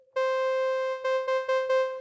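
Bright, buzzy saw-wave tone from the Copperhead digital synthesizer by 4Pockets on iOS, one sustained note followed by four quick repeated retriggers, clean and alone with no talking.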